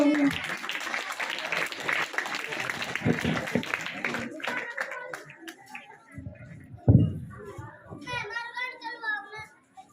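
Children clap at a school annual function at Mahatma Gandhi Government School, Saleta. A dense patter of applause mixes with young voices, then thins out as an adult voice takes over.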